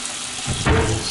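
Water from a bathroom sink faucet with good pressure suddenly starts running, a close, steady hiss and splash that keeps going after a brief quiet start.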